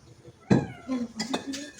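A large pregnant cat trapped for a day and a half on a third floor meows in several drawn-out, plaintive calls after a sudden bump, fairly close and clear, with faint voices around.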